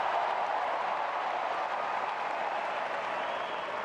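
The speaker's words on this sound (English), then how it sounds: "Crowd applauding the effort from both" A tennis crowd at the US Open final between Sinner and Fritz applauds, a dense, even wash of clapping, loud and sustained throughout with no breaks.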